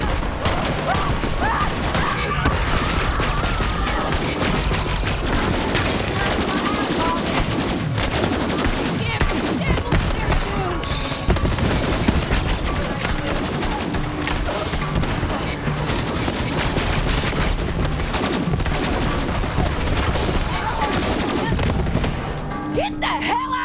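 Loud, dense Borderlands 3 gunfire during a Devil Riders raid on a town, continuous rapid shots and bursts with explosions and crashes, under shouting game voices throughout.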